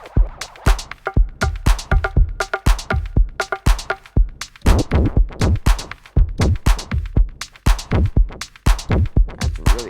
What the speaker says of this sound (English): That's a really hard techno kind of effect.